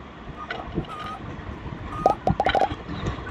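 Chickens and ducks on a Roblox egg farm in a video game cluck quietly, then a quick cluster of sharp calls bunches together near the end over a low background murmur.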